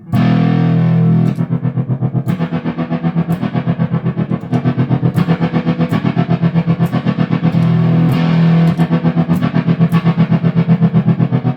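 Electric guitar played through a Condor pedal with gain raised and drive circuit engaged, a loud, saturated distorted tone with rhythmic chugging strums and sharp pick attacks, continuous and alone.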